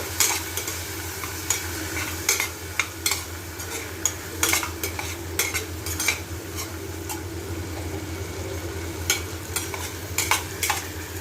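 Cumin powder and onions sizzle steadily in a pan while a utensil scrapes and clinks against it in irregular stirring strokes, close and continuous.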